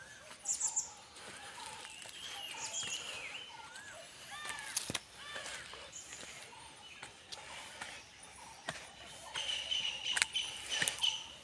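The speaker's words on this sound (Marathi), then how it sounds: "पाखरांचा आवाज येतो सकाळी सकाळी" Morning birds chirp and tweet from several directions in a village, over a quiet outdoor background, with short calls and a few sharper trills scattered throughout.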